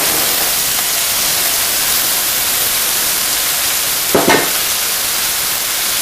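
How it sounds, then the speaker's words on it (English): Bacon, onion, garlic and potatoes fry in a pot for potato soup with a loud, steady broadband sizzle. Near the end comes a brief louder clatter, as if the pot is stirred or jostled. "In goes the bacon. In goes the onion, garlic. In go the potatoes."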